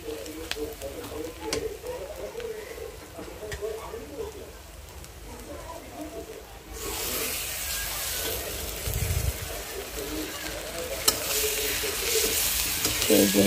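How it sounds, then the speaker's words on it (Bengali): Fish roe frying in a pan with ginger, garlic, onion and green chili, a steady close sizzle that grows louder and brighter midway, with stirring scrapes and a voice talking over it. "এই যে মাছের ডিমটা বললাম রান্না করতেছি"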